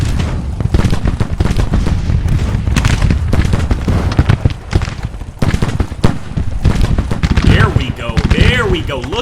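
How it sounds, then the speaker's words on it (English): Musket volley fire crackles in a Civil War battle in the Grand Tactician video game, with dense overlapping shots and deep booms rolling continuously and loudly while someone talks over the fighting. "Look at that withering fire"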